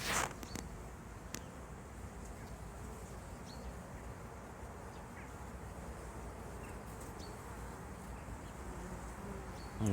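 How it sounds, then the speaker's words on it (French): A pure strain of black honeybees buzzes around the hive on a sunny February day, a faint, steady drone with occasional closer passes and no talking. "Donc là c'est vraiment une souche d'abeilles noires pure."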